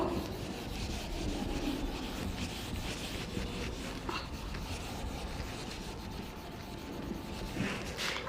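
Continuous soft rubbing and scraping as an eraser or cloth wipes a classroom board during a lecture, steady and close for the whole stretch, with no talk over it.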